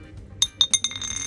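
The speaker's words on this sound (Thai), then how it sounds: "เนี่ยอ่าอันนี้คือเสียงธรรมชาติของเต๋านะครับใสปิ้งอ่า" Several bright, glassy clinks in quick succession as dice rattle against one another in a cup, close and crisp.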